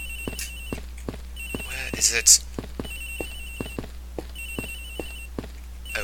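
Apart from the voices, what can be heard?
phone ringing in Ace Attorney Investigations video game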